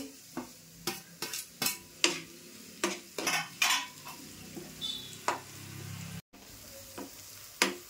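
Tomatoes frying with softened onions in a pan for a cashew usal, a low sizzle broken by repeated sharp scrapes and clinks of a spoon stirring against the metal.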